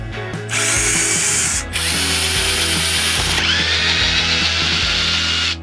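Power drill driving out hardware screws on a cheap guitar, with loud whirring bursts separated by short pauses and clicking mechanical ratchet sounds between them, close and without speech.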